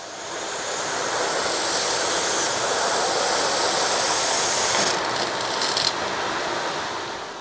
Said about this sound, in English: We're waiting for the water to come out, and then we're going to close this bleeder.